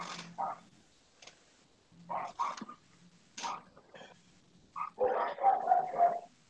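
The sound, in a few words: dogs barking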